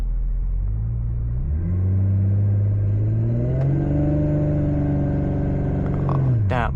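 A 2020 Audi S5 coupe with an 8-speed transmission revs up against the brakes for a brake boost launch, its engine rumbling loud and close, climbing in pitch and holding high before dropping off.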